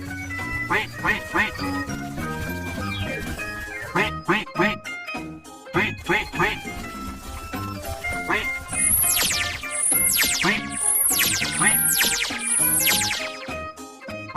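Cartoon duck quacks repeat in a quick series of bright, squeaky calls over cheerful music, loud and close, with a voice speaking.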